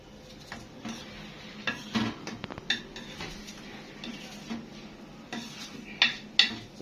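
Starch, cumin and salt seasoning is mixed with a spoon in a bowl, giving scattered soft scrapes and a few bright metallic clinks and taps against the dish, close and fairly quiet.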